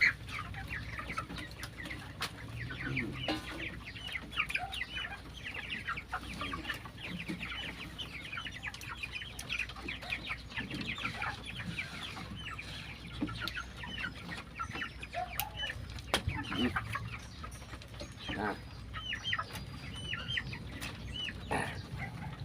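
Backyard chickens cluck and murmur steadily as they are fed, with scattered wing flaps and scratching mixed in and a few louder squawks standing out over the flock's busy chatter.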